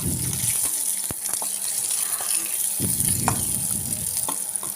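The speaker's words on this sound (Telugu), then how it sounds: "డ్రై ఫ్రూట్స్ని బాగా వేయించుకోవాలి" Dry fruits frying in oil or ghee for a festive payasam, giving a steady close sizzle with a few sharp clicks and scrapes of stirring throughout, no voices.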